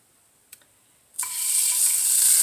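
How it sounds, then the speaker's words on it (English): Butter hits a hot frying pan after a faint tap and breaks into a loud, steady sizzle that builds and holds to the end. "put a little more butter in the pan"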